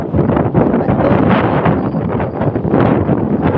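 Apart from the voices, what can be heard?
strong wind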